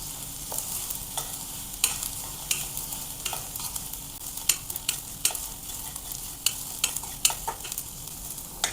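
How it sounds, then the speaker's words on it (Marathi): Red chili powder, onion-garlic masala and coriander powder sauté in a pan with a soft sizzle, while a spoon stirs and scrapes in repeated sharp clicks at a close, moderate level. "मसाले एखाद मिनिटभर छान यामध्ये परतून घ्यायचे आहेत"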